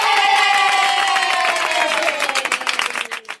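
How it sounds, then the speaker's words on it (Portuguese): A small gathering claps and cheers for a girl named Clarinha. Loud, mixed clapping and voices hold steady at first, then thin into scattered, uneven claps that fade out. "uma salva de palmas para a Clarinha"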